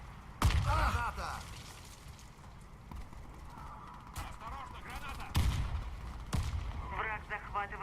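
A video game battle: a sharp grenade blast and several loud gunshot cracks hit at irregular intervals, with in-game voices calling out between the bangs.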